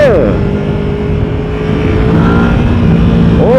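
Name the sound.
Yamaha VMAX1700 motorcycle engine revving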